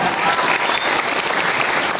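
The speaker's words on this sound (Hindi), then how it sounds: "जल्दी से एक बार तालियां बजा दीजिए।" Loud, dense applause from a crowd at a meetup, continuous and close throughout the short stretch.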